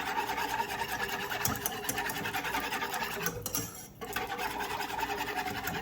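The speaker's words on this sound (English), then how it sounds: "so that's why I'm gonna continue to whisk." A whisk scrapes steadily around a pan as milk is stirred into a flour and baking-fat roux for baked macaroni and cheese, a faint, rapid, rhythmic rasping that pauses briefly near the end.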